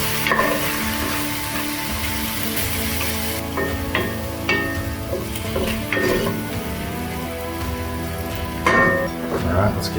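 Flour-dusted beef sears and sticks in a very hot pan for a healthy stew, giving a continuous close sizzle with utensil scrapes and clinks, while people talk over it.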